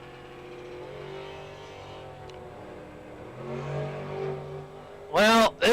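A Theobald Motorsports dragster at a bracket race at Western Colorado Dragway, a distant engine rumble under a commentator's talk, then a sudden loud, rising roar as the dragster launches near the end.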